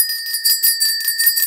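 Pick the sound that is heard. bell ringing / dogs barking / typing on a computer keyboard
bell ringing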